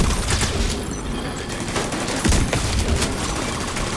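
Gunfire in the video game The Division 2, a loud, dense, continuous burst of rapid shots that fills the whole stretch without pause.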